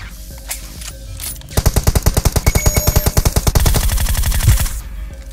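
Gunfire in the battle royale game PUBG: after a quiet start, a loud, evenly spaced stream of rapid automatic shots runs for several seconds before cutting off, with no talking.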